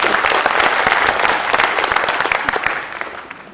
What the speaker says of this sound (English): Clap if you want them to succeed.